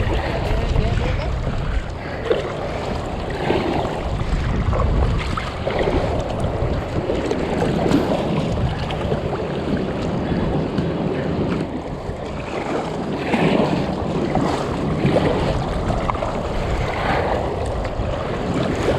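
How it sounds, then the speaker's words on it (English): Choppy sea water sloshes and splashes steadily close around a kayak off Aruba, with wind rushing across the microphone throughout. "It's a little bit choppy with the water"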